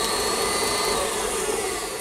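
Electric stand mixer running steadily, beating cheesecake batter in its bowl; a loud, continuous whirring motor hum holds at an even level throughout with no talking.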